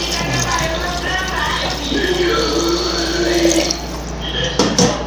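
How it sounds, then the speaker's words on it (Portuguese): Water pours steadily from a tap into a cooking pot in a home kitchen, a continuous close splashing rush that fills the whole stretch, with a brief clunk near the end. "Eu coloco muita água assim"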